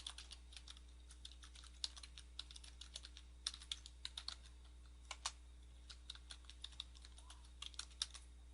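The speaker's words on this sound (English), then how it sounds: "then we will type in the site address" Fast, quiet typing on a computer keyboard as a site address is entered, with irregular bursts of crisp key clicks over a steady low electrical hum.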